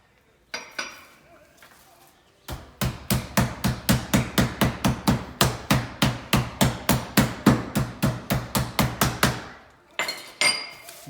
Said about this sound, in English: hammer it out on the other side